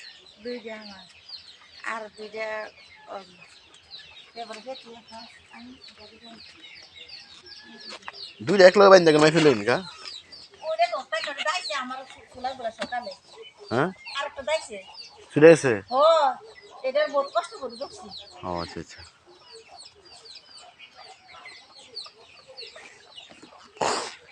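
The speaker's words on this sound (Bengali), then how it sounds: "রাজহাঁস আছে" Geese in a pretty village area give a run of honking, cackling calls, some loud and close with a strong burst midway, mixed with chatter from people nearby.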